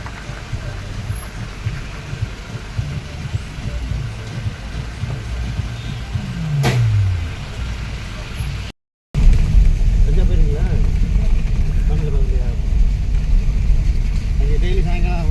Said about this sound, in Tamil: பயங்கர டிராஃபிக்கு